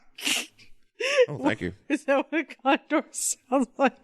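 A single sharp sneeze bursts out at the start, then a person talks.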